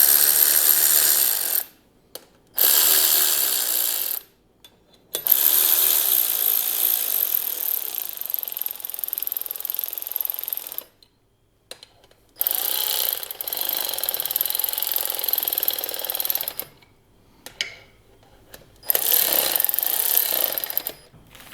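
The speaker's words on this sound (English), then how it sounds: "we're going to go ahead and torque these down" A ratchet runs bolts down on a power steering pump bracket during an LS engine alternator and pump relocation. The harsh, loud mechanical chatter comes in long continuous bursts separated by several short pauses.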